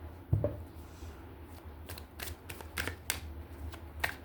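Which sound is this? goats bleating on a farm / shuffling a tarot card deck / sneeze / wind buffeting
shuffling a tarot card deck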